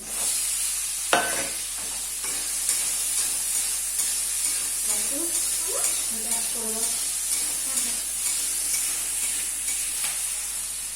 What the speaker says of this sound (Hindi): प्याज के साथ में ये सब्जियों को भी थोड़ा सा फ्राई कर लूंगी।